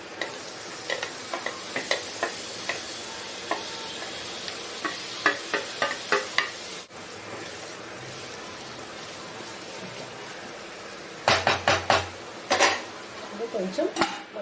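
Tomato pieces go into a pan of mutton curry and are stirred, making scattered spoon clinks and scrapes against a soft sizzle. A louder burst of scraping comes near the end, and there is some talk.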